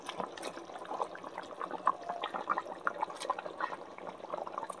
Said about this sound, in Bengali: তো দেখো টকবক করে ফুটে উঠেছে।